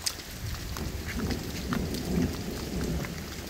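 Heavy summer rain pours steadily onto a Musa basjoo banana plant and its broad leaves, a dense continuous hiss with occasional soft thumps of thunder underneath.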